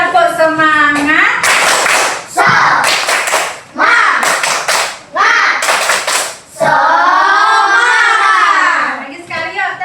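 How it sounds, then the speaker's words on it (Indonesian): Several people clap in a steady rhythmic pattern, with bursts of children's chanting voices in between and overlapping the claps. "Yuk kita tepuk semangat dulu ya. Tepuk semangat."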